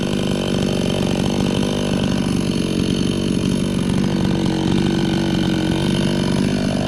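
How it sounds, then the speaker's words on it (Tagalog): A chainsaw with a faulty bearing runs steadily and loudly throughout, a constant buzzing drone with no pauses and no voices. "Huwag tayo masyadong lumapit kasi nagluloko yung bearing ng chainsaw, baka pumilantik."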